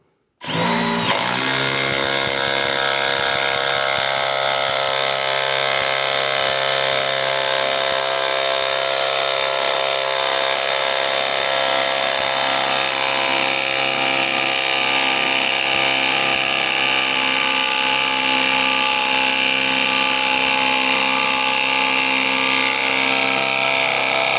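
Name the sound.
Milwaukee Gen3 M12 impact driver sinking 3/8 by 10-inch lag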